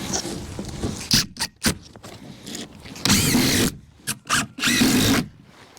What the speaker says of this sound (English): I'm going to use 1 5/8 deck screws because these are coated and these will be staying.